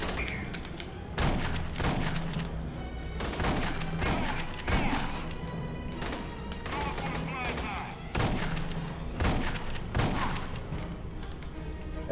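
Rapid gunfire crackles continuously in the video game Aliens: Colonial Marines, repeated sharp bursts of automatic shots at steady loudness, with someone speaking faintly beneath the shooting.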